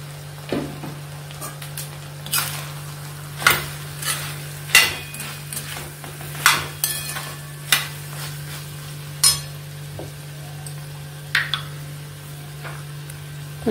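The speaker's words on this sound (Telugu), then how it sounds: "ఇప్పుడు బీరకాయ ముక్కలు వేసేద్దాం." Ridge gourd pieces and prawns are stir-fried in a pan. A spatula clacks sharply against the metal at irregular intervals of about a second, over a low sizzle and a steady hum.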